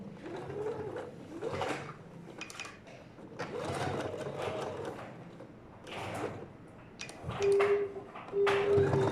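A sewing machine stitching an American-style side pocket onto trousers, running in short bursts of rapid whirring needle strokes with pauses between, close and clear, and a light handling clatter.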